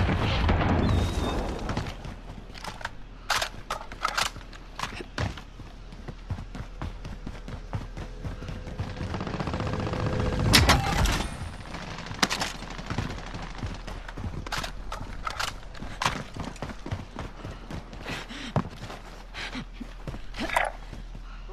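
Dense gunfire in the video game Warzone, rapid automatic bursts and single shots cracking near and far, a heavy blast near the middle, with shooting continuing in uneven clusters throughout.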